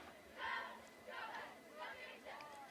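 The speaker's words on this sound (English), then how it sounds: "a good shot at the student section cheering on the Hounds tonight" A high school student section cheering at a Greyhounds football game against Sedro-Woolley, heard as three or four rhythmic crowd chants rising and falling, somewhat distant and moderately loud.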